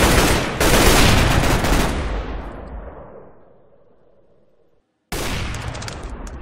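A heavy burst of AK-47 fire in Minecraft's Minestrike mode on the Mineplex server, loud and close, trailing off into a long fading echo before a second burst starts abruptly.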